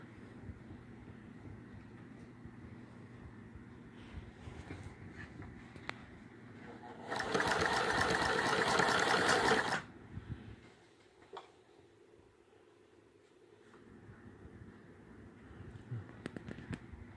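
A Singer 128 sewing machine runs in one loud burst of rapid stitching lasting a few seconds, set between quieter stretches of handling noise.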